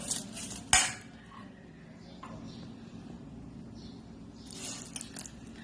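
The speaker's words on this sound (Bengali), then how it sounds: "এইবার এটা একটা কাঁটা চামচের সাহায্যে খুব সুন্দর করে নেড়ে নেব।" A fork stirs a thin breakfast batter of flour, milk and water in a bowl, with light scraping and a sharp clink against the rim early on, then soft intermittent stirring at low level.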